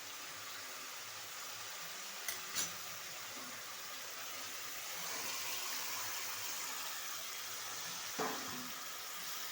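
Ginger paste hitting a pan of cumin and chilli frying in oil, a soft steady sizzle with a few brief clatters, close and fairly quiet, no talking.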